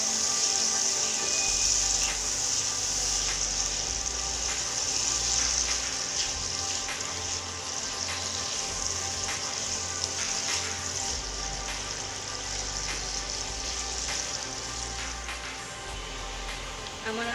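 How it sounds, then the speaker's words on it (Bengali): Potatoes sprinkled with turmeric frying in a pan, a continuous hissing sizzle that stays loud and even throughout, under a low background hum and with nobody talking. "আমার আলুগুলো প্রায় ভাজা ভাজা হয়ে আসছে।"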